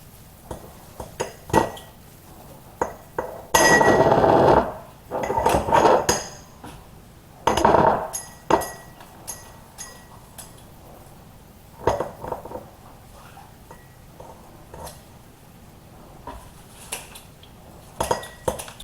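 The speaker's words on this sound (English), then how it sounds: "I'm going to use scissors. And I'm going to chop it. And as I chop it, I'm going to put it in this glass jar." Scissors chop echinacea and the pieces drop into a glass jar, giving several bursts of snipping and clinking spread between quieter pauses, close by with no talk.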